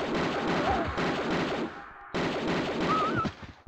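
Sustained rapid automatic gunfire in the game Tomb Raider II: Golden Mask, in two loud bursts separated by a short pause, dense and continuous, close and without speech.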